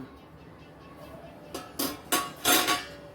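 A metal lid lifted off a covered pan of paneer angara in a kitchen, a soft scrape followed by several sharp clinks and clatters, growing louder over a second or so.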